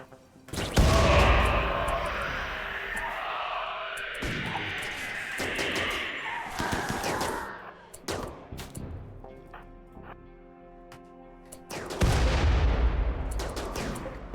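Hellcat rifle fire in RimWorld, loud close bursts of gunshots in several volleys with crashing impacts between them, a brief lull, then another heavy burst; a voice is heard faintly now and then.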